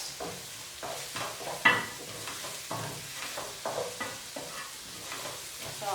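Onions fry in hot oil in a pan for braised ossobuco, sizzling steadily at a moderate level, with a spoon stirring and scraping in irregular strokes and no one speaking.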